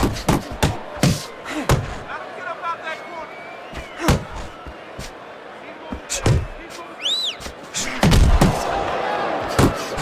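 Punches from a boxing combination in the video game Fight Night Champion: sharp, heavy slams strike in irregular clusters, some doubled in quick succession, over crowd ambience and a commentator's voice.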